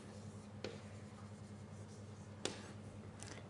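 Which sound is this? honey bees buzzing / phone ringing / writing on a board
writing on a board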